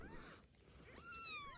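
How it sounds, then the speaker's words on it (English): British Shorthair kittens beside a riverside give soft, high, baby-like meows, a few short rising cries near the end over faint outdoor background. "They let out soft baby-like meows, as if greeting the world in their own tiny language."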